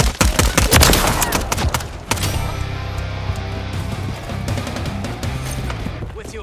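Intense Call of Duty gunfire, rapid overlapping automatic bursts loud and close in the first two seconds, followed by continuing distant shots and battle noise.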